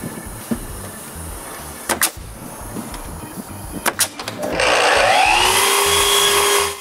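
Wood strips are nailed to walls for soffits in a workshop: a few sharp, separate knocks spaced seconds apart, then a loud, sustained power-tool whine at close range.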